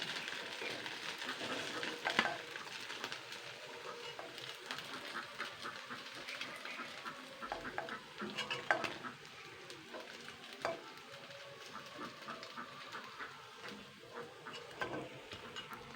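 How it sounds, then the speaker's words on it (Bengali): Flattened rice (chira) fritters frying in hot oil, a soft steady sizzle with faint crackles and occasional utensil clicks, moderately quiet and continuous with no talking. "দেখুন সব কটা চিড়ে বড়াই ভাজা হয়ে গেছে"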